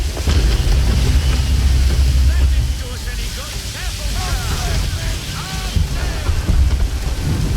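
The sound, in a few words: thunderstorm approaching at sea in the video game Assassin's Creed III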